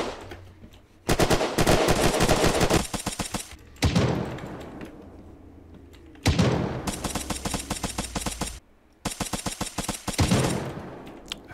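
Rapid automatic gunfire rattles in loud bursts during a video game base raid, with several long volleys separated by short pauses and a few heavy single shots between them.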